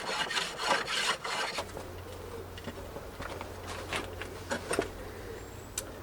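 Hand rasping along the edge of an oak baseboard to round it over, a quiet series of scraping, rubbing strokes in an uneven rhythm, close by with no talking.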